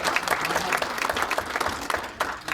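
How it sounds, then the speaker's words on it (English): Crowd at an auctioneers association convention speech claps steadily, a moderately quiet, continuous round of applause with individual claps audible. "you guys deserve a round of applause that you should really, truly give yourselves right now"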